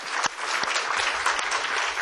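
Applause from a church congregation honoring a pastor, a short burst of dense clapping that fills the room steadily for about two seconds.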